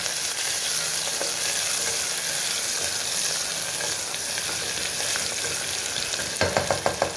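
Onions sizzling in a pan with bay leaf and whole spices, a steady loud frying hiss throughout, ending with a few sharp stirring scrapes.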